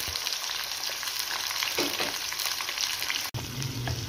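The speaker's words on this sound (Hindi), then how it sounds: "घी मैंने गर्म होने के लिए रख दिया था। इसमें चला गया प्याज" Onion and garlic frying in hot ghee for chicken biryani give a dense, steady sizzle close up, with a brief stirring scrape partway through and no talking.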